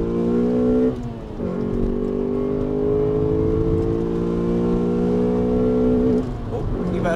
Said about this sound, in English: get it down into second gear, give it the beans